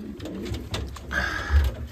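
Pigeons in a pigeon loft coo softly and close by, a few low, throaty rolling calls in a short stretch.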